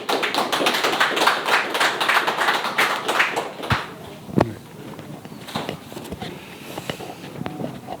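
Clapping from an audience at a citizens' forum seminar welcoming a speaker, a dense burst of many hands over about four seconds that thins into scattered claps and a few thumps.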